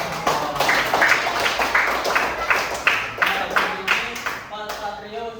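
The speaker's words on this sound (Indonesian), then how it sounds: "Tepuk tangan buat kita." A classroom of students claps together in a lively, uneven patter, with bursts of hand claps rising and falling in rhythmic waves and light voices mixed beneath, before the applause thins out near the end.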